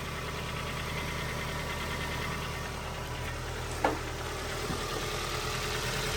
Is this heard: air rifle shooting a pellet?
no